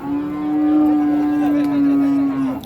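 A very large bull at a cattle market in Purwantoro, Wonogiri gives one long, deep, steady moo close by, lasting over two seconds.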